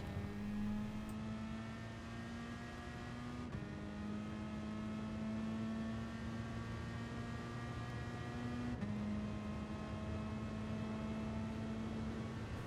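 A Peugeot race car at Monza in Gran Turismo Sport, engine droning and rising in pitch as it accelerates through gears, a steady loud whine with brief shift breaks, no talk.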